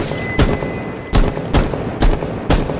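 Gunfire in a multiplayer shooter video game, five loud sharp shots spaced irregularly over a steady background of game sound, close and punchy.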